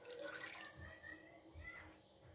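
Water is poured into a pot of lamb tagine with prunes and almonds, a faint, short splashing trickle heard close by.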